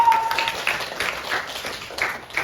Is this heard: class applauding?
yes